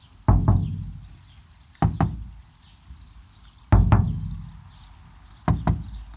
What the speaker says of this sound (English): Knocking on the door or on a panel, you can hear a significant difference.